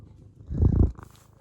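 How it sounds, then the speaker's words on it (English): A cat purrs close by, a low rumbling that swells louder for a moment in the middle before settling back to a soft, steady purr. "I can hear his purrs."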